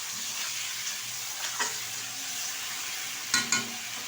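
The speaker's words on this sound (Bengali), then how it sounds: "দিয়ে দিচ্ছি ধুয়ে রাখা খাসির মাংস। ভালোভাবে বেশ কিছুক্ষণ কষিয়ে নেব।" Goat meat, washed beforehand, being sautéed in a kadai: a steady close sizzle with a couple of brief scraping stirs, alone without voices.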